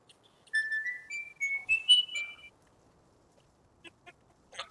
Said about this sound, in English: very loud whistles that are going on in my ear